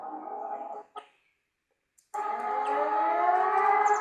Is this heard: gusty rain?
no